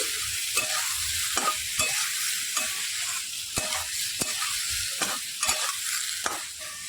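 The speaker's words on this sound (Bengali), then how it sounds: "মশলার সঙ্গে কিন্তু আলু আর কড়াইশুঁটিটা খুব ভালো করে কষিয়ে নিতে হবে।" Potatoes and green peas are stir-fried with spices in a wok under a continuous sizzle, with repeated scraping strokes of a spatula every half second or so, close and steady.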